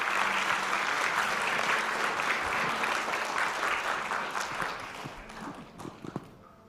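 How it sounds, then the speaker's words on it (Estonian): A church congregation applauds loudly and steadily, the dense clapping fading gradually toward the end with a few scattered claps and thumps. "Teeme aplausi."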